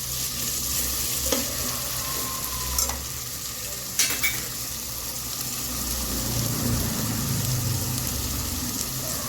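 Chopped tomatoes frying in hot oil in a pan for samba wheat rava khichadi, a steady sizzle with a few sharp clicks of a spoon stirring and scraping.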